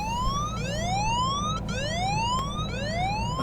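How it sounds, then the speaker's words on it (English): A boat's anchor alarm sounds loudly on its own, a repeating electronic whoop that sweeps upward in pitch about once every second, steady and insistent with no voices. "My anchor alarm!"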